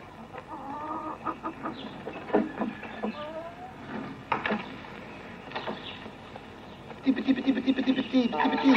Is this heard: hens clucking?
yes